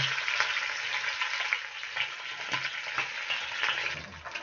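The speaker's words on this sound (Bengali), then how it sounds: "সব মাছগুলো ভেজে নেব।" Bata fish fry in oil in a wok, giving a steady close sizzle and crackle that carries on without a break and without talk.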